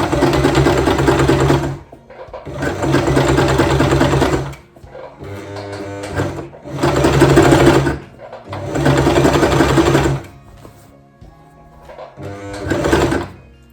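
Sewing machine stitching through fabric, running in loud steady bursts of about two seconds with short pauses between them as pins are pulled, no voices over the motor's whir.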